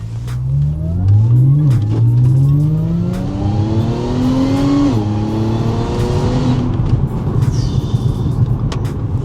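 Tuned Audi S4 B8.5 with a 3.0T supercharged V6, making about 500 hp, pulls hard with its exhaust valves closed, the engine note rising through the revs in a loud sustained run with a brief dip at a gear change before easing off.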